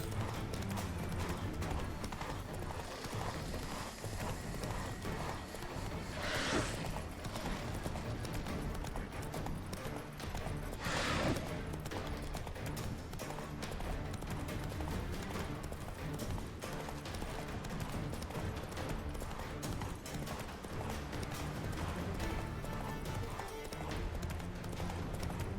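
A horse gallops in The Witcher 3 video game, its rapid rhythmic hoofbeats running without a break and moderately loud, with a neigh or two and other game sounds mixed in.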